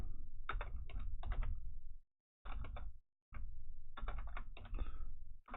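Someone types on a computer keyboard in clustered bursts of rapid clicks, with short pauses between runs, close and clear with no talking.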